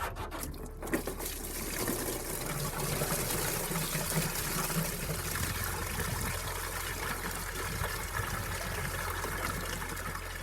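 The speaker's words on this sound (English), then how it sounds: "I'm going to undo this hose clamp on the bottom and drain it out again" Coolant water pours steadily from the loosened lower radiator hose of a Toyota Land Cruiser FJ45, a close continuous splashing gush running without a break and without talking.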